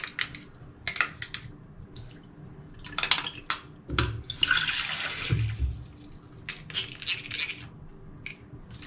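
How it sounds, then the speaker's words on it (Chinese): Tap water runs at a sink while a child's mouth is rinsed, coming in uneven splashy spurts with one louder gush near the middle, close by and without talking. "帮孩子再稍微多冲一下水"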